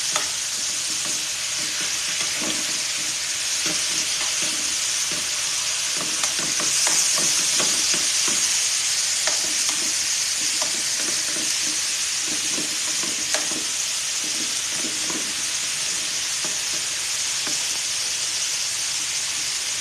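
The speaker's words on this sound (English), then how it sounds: "So the steak is cooking." Steak sizzles steadily in a pan, a loud continuous frying hiss with crackling pops and occasional scraping as the meat is turned, close and without talk.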